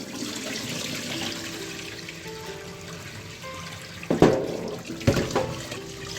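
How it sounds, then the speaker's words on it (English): Water runs steadily from a tap with soft splashing, then a couple of louder sloshes and knocks as rice is washed in a bowl. "Okay, we're gonna wash the rice."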